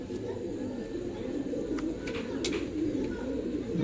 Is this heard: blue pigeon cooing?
yes